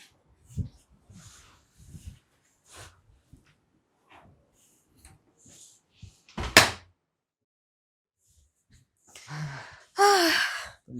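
A door shuts indoors at home with one sharp, loud thud standing out between faint scattered sounds and brief murmurs, followed later by a breathy gasp-like noise.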